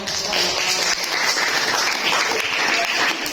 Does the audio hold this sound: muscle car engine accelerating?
no